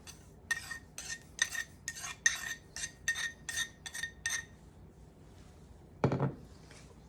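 A spoon stirs sesame seeds and sugar together in a bowl, making a run of about ten quick rhythmic metallic scrapes and clinks, quiet and close, then a pause and one duller knock.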